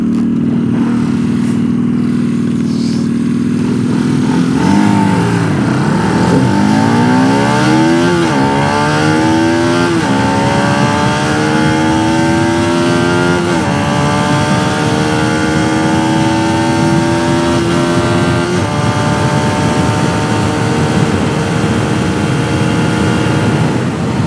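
A Pulsar RS200 and a Keeway V302C motorcycle accelerating in a drag race, with loud steady engine roar climbing in pitch through several gear shifts, close and continuous without talk.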